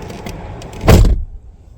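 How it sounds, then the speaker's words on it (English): Power door locks on a 2004-2014 Ford F-150 cycling after key fob programming: a single short, loud mechanical clunk inside the truck, close and alone. "Locks will again cycle to indicate end of programming mode."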